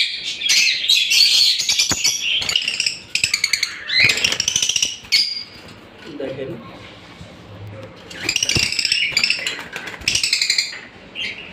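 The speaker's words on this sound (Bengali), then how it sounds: "এটাকে ভায়োলেট ইউইং অপালাইন বলে।" Violet wing opaline pet birds chirp and squawk close by in bright, busy bursts, with gaps between flurries, and a person speaks in between the calls.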